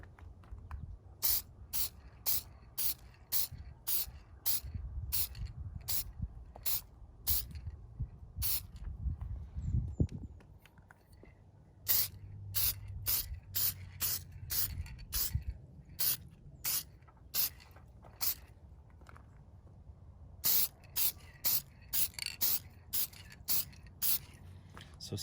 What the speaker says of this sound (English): starting to spray the first coat